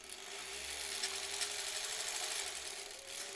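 A sewing machine stitching cloth face masks runs in a steady, continuous mechanical whir for a few seconds, close and moderately quiet, with no voices.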